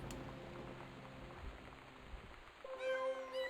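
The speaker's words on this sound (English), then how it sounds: "Meow, meow. Meow, meow. Meow, meow, meow, meow." A cat meows a few times inside the video game Gone Home, the calls coming up near the end over a steady rain-like hiss and low ambient hum.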